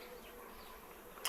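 Bees hum at an outdoor bee farm as a soft, continuous buzz, faint and steady throughout, ending with a brief louder rustle.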